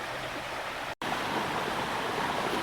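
Avery Creek flowing beside a footbridge on the trail up to Twin Falls in western North Carolina, a steady broadband rush of stream water held close and even, broken by one very brief dropout.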